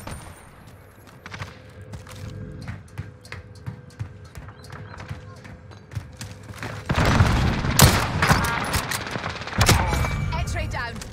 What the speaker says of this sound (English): Can't fucking hear with all these gunshots.